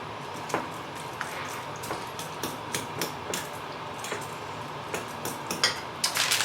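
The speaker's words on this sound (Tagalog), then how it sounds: "Haluin lang natin mabuti para mahalo lahat ng mga ingredients sa pinakailalim." A utensil clinks and scrapes against a bowl while stirring an omelette mixture of noodles and sardines, giving irregular close taps and scraping over steady quiet background.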